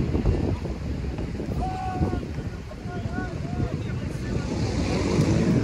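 Strong wind buffets the microphone at a football ground, a loud continuous rushing roar that swells and dips, with faint voices and crowd sounds partly audible beneath it.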